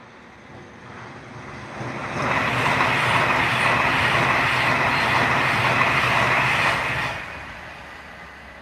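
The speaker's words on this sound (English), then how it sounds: "We've got a Pendolino coming here." A Pendolino train rushes past beneath a bridge overlooking the track, a broad loud roar that swells in over a couple of seconds, holds steady for about five seconds, then drops away quickly, with no voices.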